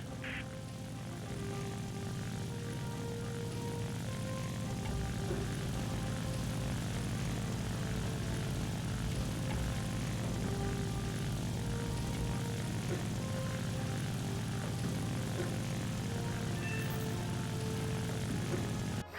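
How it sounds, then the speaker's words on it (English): A propeller-driven attack aircraft in War Thunder drones steadily at close range, its engine note constant and loud for the whole stretch, with a faint higher whine above the low rumble. "Right now, you're controlling an attack aircraft."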